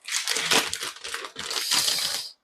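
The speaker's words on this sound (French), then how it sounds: "Je vous montre mes enveloppes." Paper envelopes being handled close up, crinkling and rustling in dense bursts with a brief pause midway.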